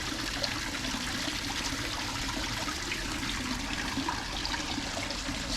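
Water drains steadily from a pond filter hose outdoors, a continuous rushing, trickling stream that stays even and fairly close throughout, with no voices.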